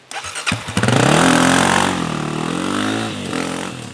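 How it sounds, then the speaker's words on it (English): A dirt bike engine fires up and revs hard at full throttle, close and loud, its pitch climbing and wavering in a sustained roar that stays strong throughout, with no talking. "This is when you just hop on the bike and full throttle right away."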